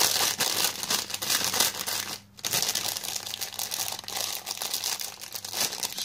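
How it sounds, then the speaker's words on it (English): Salt and vinegar crisps crushed by hand for a sweet chilli sandwich, a dense, close crinkling and crunching that runs steadily with one brief pause midway, no talk. "Crush up the crisps."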